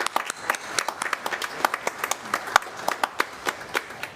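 A church congregation applauds steadily, with dense rhythmic clapping at moderate loudness throughout.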